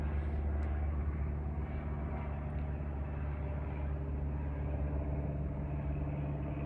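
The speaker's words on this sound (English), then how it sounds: "There's another plane flying over?" A steady low rumble of an airplane passing overhead fills the clip, continuous and fairly distant, with no voices.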